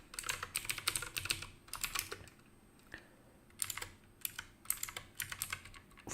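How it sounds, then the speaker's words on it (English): Quick bursts of typing on a computer keyboard as an IP address is entered, clusters of crisp key clicks separated by short pauses, close and fairly quiet. "Let's type the IP address of the target machine."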